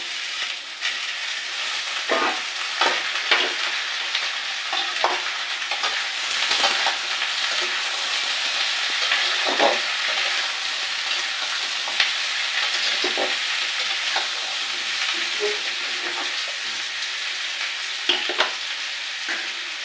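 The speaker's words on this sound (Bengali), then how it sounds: "এবার আমি কলাগুলো দিয়ে দিচ্ছি, কলা আলুগুলো এর মধ্যে দিয়ে দিচ্ছি কষানোর জন্য" Green bananas and potatoes sauté with fried onions in hot oil, a loud steady sizzle broken by repeated scraping stirs and clatters of the spoon throughout.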